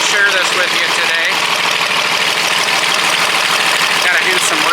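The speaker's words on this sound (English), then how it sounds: "1959 Farmall 460 diesel." A 1959 Farmall 460 diesel tractor engine idles steadily and close, a continuous rough mechanical rumble with fast knocking pulses held throughout the whole stretch.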